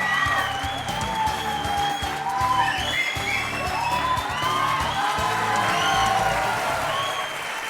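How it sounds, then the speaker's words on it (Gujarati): Studio audience in a TV courtroom show breaking into sustained applause as cricketer Virender Sehwag is welcomed, loud and continuous clapping with whoops and cheers rising over it. "અને આ તાળીઓ વાગતી રહેવી જોઈએ"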